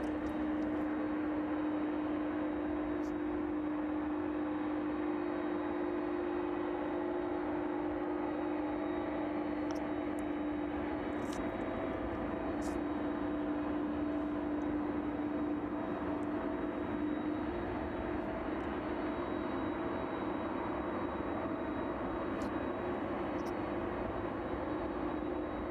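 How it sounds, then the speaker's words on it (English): A Boeing 767 cargo jet starts its engines at East Midlands Airport on a chilly evening, giving a steady, loud turbine drone with a constant whine that holds without a break, heard near and alone. "767 starting up."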